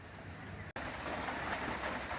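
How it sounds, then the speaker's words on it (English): Gentle rain falls steadily in a backyard, a soft, even patter with a faint bird call mixed in, broken once by a brief cut before the shower continues, close and moderately quiet. "at least 3 inches of rain, good gentle rain since then, so it's just excellent."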